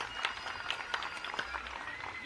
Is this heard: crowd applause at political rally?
yes